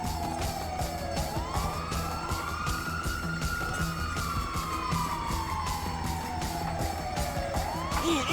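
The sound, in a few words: ambulance siren in Grand Theft Auto V video game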